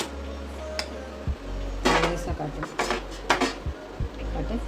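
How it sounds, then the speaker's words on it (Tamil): A metal plate is picked up and wiped, giving a series of close, bright metallic clanks and rubbing scrapes, several sharp knocks spaced irregularly over a low background hum. "இந்த மாதிரி தட்டை எடுத்து தட்டை நல்லா தொடச்சிட்டு"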